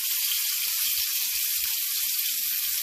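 Pork chops browning in a hot pan give a steady, dense sizzle that holds at an even level throughout and then cuts off abruptly at the end, with no voices.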